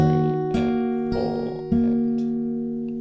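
Fingerstyle guitar plays the first bar of Alan Walker's Faded, three spaced plucked notes ringing over sustained strings, quiet and close, each attack fading slowly with no voices.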